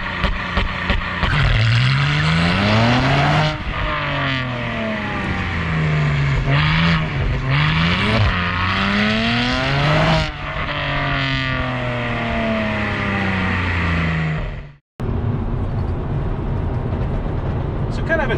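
A BMW with an N54 engine launches on a canyon road using launch control, revving loud and close, then pulling hard through several rising gear sweeps with brief dips at each shift, and a voice talks over parts of it.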